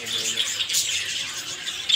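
A released pair of Java sparrows chirps in a cage, with short, bright tweets repeating close by over soft background noise.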